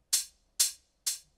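A 909 open hi-hat sample from a deep house track, panned right, hits three times at an even pace; each hit is a bright, crisp hiss with a short fading tail, heard alone.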